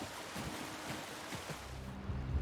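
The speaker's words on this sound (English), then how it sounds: "Just south of Dragonbridge, we find two waterfalls that let into the same lake." Rushing water from two waterfalls pouring into a lake in Western Skyrim, The Elder Scrolls Online, a steady broadband roar of splashing with a low rumble underneath, continuous and fairly close throughout.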